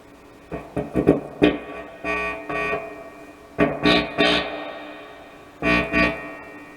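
A spring reverb tank, resting in its bag, is jolted and tested: a series of sharp crashes and thuds, each followed by a short metallic ringing decay, close and loud, with no talking.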